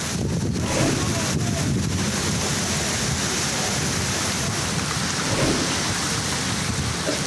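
Thunderstorm with heavy rain over Mirpur, Kotli and Muzaffarabad in Azad Kashmir, a dense steady roar of downpour with low rolling rumbles of thunder and wind buffeting the microphone throughout, no voices.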